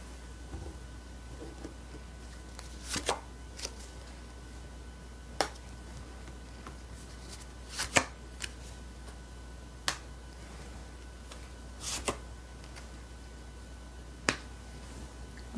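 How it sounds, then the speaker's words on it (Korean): Tarot cards are drawn and laid down in a quiet room, giving sparse, sharp card snaps and taps every second or two over a low, steady hiss. "그럼 1번 분 현재 상황 카드 뽑아보도록 할게요."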